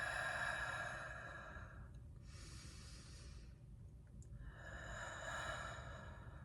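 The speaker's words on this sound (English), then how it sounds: "A demonstration of your belly breathing would look something like this." Slow belly-breathing exhales from a guided breathwork demonstration, heard as two soft, airy breaths with a quiet pause between them, close and alone with no talking.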